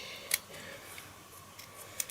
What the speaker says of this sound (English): I'm going to snip off,